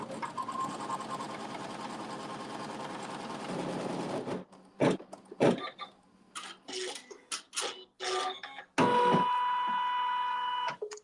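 An embroidery machine sews a tack-down stitch on a log cabin quilt block. It whirs steadily at close range, then continues in short stop-start bursts of stitching separated by brief pauses. No voices are heard.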